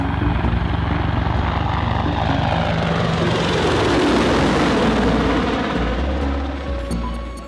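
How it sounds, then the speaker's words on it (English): A loud Apache helicopter roars overhead above a Baghdad neighborhood, its rotor thump and engine drone swelling then slowly fading away. "An Apache helicopter flies over a neighborhood in Baghdad."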